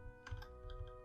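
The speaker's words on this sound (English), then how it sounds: "my typing is terrible." Clicky keystrokes on a computer keyboard while searching game code in a PC editor, a quick irregular burst of close taps with no voices.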